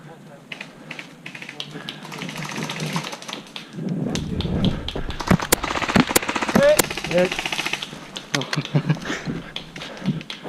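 Airsoft guns firing during an outdoor skirmish around buildings and hills, with rapid bursts of sharp, loud clicking shots clustered in the middle, mixed with players shouting and talking throughout.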